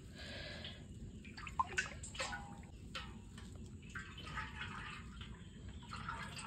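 Water is drawn from a household well, with faint splashes and drips over quiet background hiss and a couple of brief knocks.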